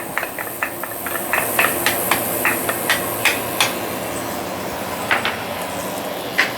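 Ginger, garlic and shallot sauté in hot vegetable oil for imitation shark fin soup, making a steady, close, fairly loud hiss broken by scattered sharp pops and ticks.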